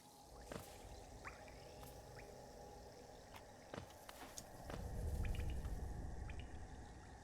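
Boiling water in the Hollow Knight video game gives faint, scattered drips and pops, building into a softer, denser bubbling wash toward the end.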